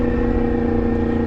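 A Yamaha MT10 motorcycle with an Austin Racing exhaust runs close and loud, giving a continuous rough engine roar over this brief moment.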